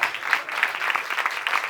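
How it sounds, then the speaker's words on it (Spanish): Steady applause from a church congregation, dense clapping with no break for nearly two seconds, moderately loud and filling the room. "Den un aplauso a Dios."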